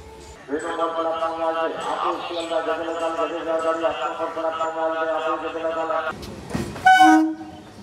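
A ladies special local train pulls into the station with a long, loud, steady horn blast, followed by rumbling and brief clatter as it arrives, with talking nearby.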